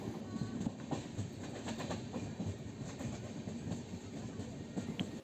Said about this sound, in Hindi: विरमगाम जंक्शन से निकलने के बाद अपनी ट्रेन काफ़ी तेज़ शार्प कर ले रही है।